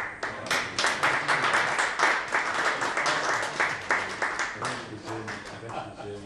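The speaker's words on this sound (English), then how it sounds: "that deserves a round of applause" An audience at a technical talk breaks into applause. Clapping swells quickly into a loud, dense burst, then thins and fades over several seconds, with some murmuring underneath.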